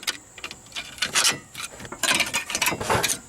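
Flathead screwdriver prying and popping out rear brake pin clips on a 2002 Mini Cooper, giving scraping metal rubs and short clicks in bursts, close and moderately loud, with no talking.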